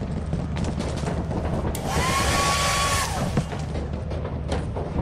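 A hair dryer whirs steadily for about a second amid the noisy background of a Lethal Company game session, with a faint rising whine at its start and brief clicks around it.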